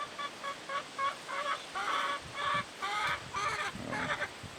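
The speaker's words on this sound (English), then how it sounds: "Chickens and ducks are all together now." Repeated quacks and honks from a flock of ducks and chickens, bursting in short overlapping clusters, fairly close and busy, with no talking.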